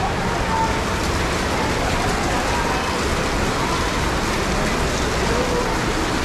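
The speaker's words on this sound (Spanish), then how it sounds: "Pues a esperar a que se calme la lluvia." Heavy rain pours steadily during a hailstorm in Guadalajara, a dense, loud, unbroken hiss of water hitting surfaces that stays constant across the whole stretch.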